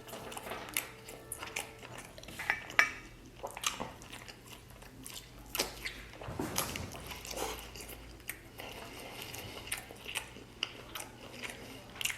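Someone bites and chews the leg of a whole golden roast Thanksgiving turkey up close, with crisp bites, tearing and wet chewing in an irregular rhythm, fairly quiet and without talk.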